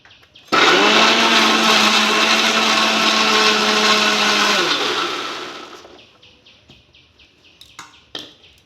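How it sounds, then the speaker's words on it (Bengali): Mixer grinder whirs loudly while grinding ridge gourd into paste, a steady high motor drone that starts abruptly, holds for several seconds, then winds down, followed by faint clinks and taps. "মিক্সার মেশিনে দিয়ে দিচ্ছি দিয়ে আমি এটাকে বেটে নেব ভালো করে"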